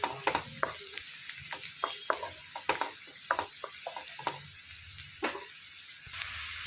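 A spoon stirs turmeric into sizzling capsicum egg fry. The stirring gives a rhythmic series of sharp scrapes and clacks over a soft steady sizzle, close and fairly quiet.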